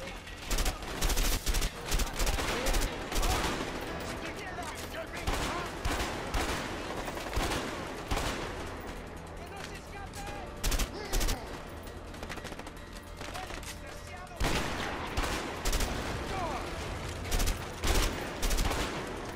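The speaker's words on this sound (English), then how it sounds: "No way I was hitting someone during that explosion." Gunfire and explosions in the video game A Way Out, with repeated sharp volleys and bursts of automatic fire, loud and close, in clusters through the clip.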